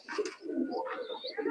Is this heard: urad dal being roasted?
no